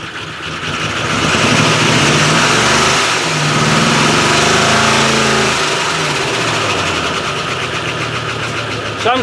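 A Range Rover project engine with suspect oil, running rough and uneven at a steady fast idle, with a loud, continuous, lumpy mechanical roar that dips briefly midway. No voices are heard.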